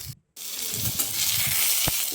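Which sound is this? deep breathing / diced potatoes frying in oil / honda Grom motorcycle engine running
diced potatoes frying in oil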